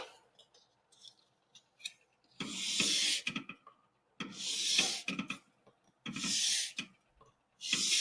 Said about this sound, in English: So I'll just drag it in one direction. This way. I won't sand back and forth.